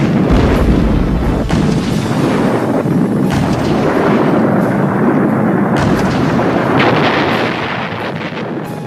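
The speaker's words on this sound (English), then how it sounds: "Heavy howitzers called Big Berthas blew towns to smithereens" Heavy WWI howitzer artillery fire, a loud, dense barrage of booms and blasts rumbling continuously, with sharper reports near 1, 3.3 and 7 seconds before easing slightly at the end.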